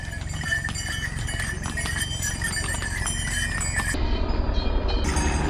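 Horse hooves clip-clopping on the mountain trail between Govind Dham and Govind Ghat on the Hemkund Sahib route, a dense rapid clatter of hoof strikes nearby that continues loudly throughout with a steady background rumble.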